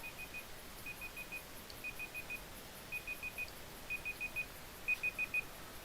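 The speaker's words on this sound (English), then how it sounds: "Oh look, the timer's actually going off this time." A timer beeps in quick bursts of four short, high tones, repeating about once a second over a low, steady background hum.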